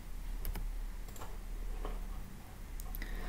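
A few soft, scattered keystrokes on a computer keyboard while entering a value in Tableau, faint beneath a steady background hum.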